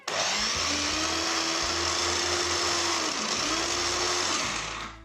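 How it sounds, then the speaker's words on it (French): A small hand blender mixing hummus runs close and loud in one steady whir, its motor pitch dipping briefly midway, then cutting off near the end. "on a tous au moins un petit mixeur comme ça à portée de main."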